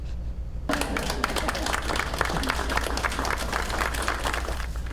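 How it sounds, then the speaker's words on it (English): Hospital staff lining the halls clap for a discharged patient being wheeled toward the elevator, a sustained burst of scattered applause from a small group starting abruptly and continuing at a steady, lively level. "he was surprised when he was discharged to see hospital staff lining the halls for him and clapping as he was wheeled to the elevator"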